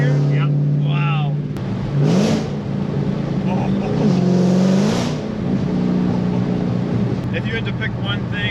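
A Dodge Challenger Hellcat accelerates hard through its gears, its loud, steady engine drone rising in pitch along with the supercharger whine; the sound is close and continuous, and people talk over it at the start and middle.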